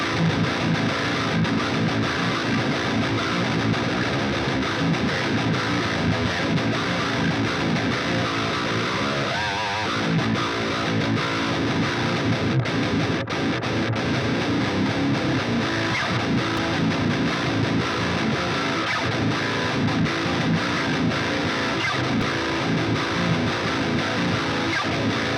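Heavy, chunky distorted electric guitar played through an AMT P2 amp simulator, continuous, a thick saturated tone with steady dense energy and no voices.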